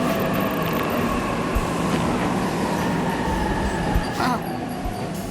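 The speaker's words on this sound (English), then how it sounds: "Train's already here." A train rolling into a station in the video game 13 Sentinels: Aegis Rim, a loud continuous rumble with rhythmic wheel clacks and brief metallic squeals throughout.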